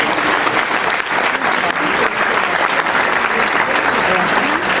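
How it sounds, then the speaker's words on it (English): An audience at an Elvis tribute concert gives a loud, sustained round of applause that runs dense and even throughout, with a few voices mixed in. "Please give him a round of applause as we go through."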